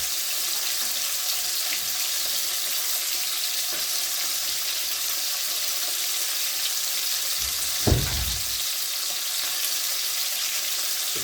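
Salted white peda fish fries in a pan of hot oil with a steady, loud sizzle throughout, and a brief clatter near the end as the fish is turned.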